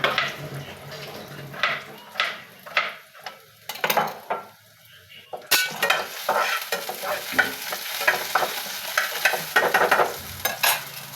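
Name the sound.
onions frying in a pan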